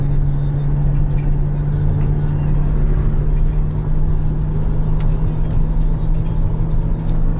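Steady engine and road drone from inside a salvaged 2019 Ferrari 812 Superfast being driven after a rebuild, a constant loud hum with a strong low tone, with no clear revving changes.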